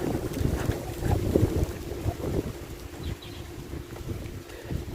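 Strong wind buffets the microphone in a continuous low rumble across the whole stretch outdoors on a Cavendish banana plantation, loud and gusty with no talking.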